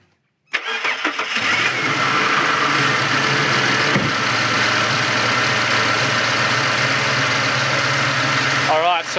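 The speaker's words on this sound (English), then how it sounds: "it's gonna be hard to hear me over the sound of the engine" A car engine with six cylinders cranks and catches, then settles into a loud, smooth, steady idle that runs unbroken until the end.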